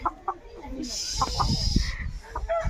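A Sonali chicken clucks and squawks in agitated bursts while being caught, with scuffling close by and people talking.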